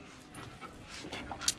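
A half-husky dog pants in quick, breathy rhythmic puffs close by, soft and steady, with a small squeaky whimper at the end.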